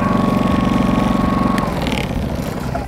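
A Cromtech Brumby 3.0 kW compact portable petrol inverter generator runs close up, its small engine purring in a steady, fast pulsing drone that settles slightly lower partway through.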